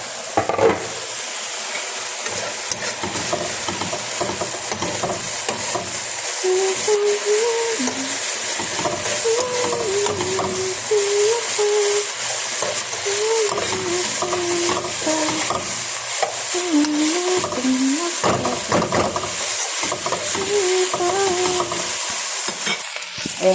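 Homemade shawarma meat frying and being stirred in a pan until brown, a loud close sizzle with repeated scraping stir strokes throughout, no talk.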